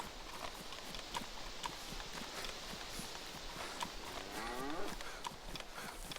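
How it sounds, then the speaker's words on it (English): Cattle and a big black bull in the DayZ video game, with hoof clops and a low moo rising around the middle, steady over a constant game ambience at moderate distance. "And his friend, the big black bull."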